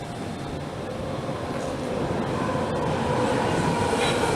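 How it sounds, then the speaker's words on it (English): A Greater Anglia train on the Bishop's Stortford service pulls into a station, giving a steady rumble that slowly grows louder over a few seconds. "the train that's just pulled in behind that is the 1000, 2 Sierra 16 service to Bishop Stortford."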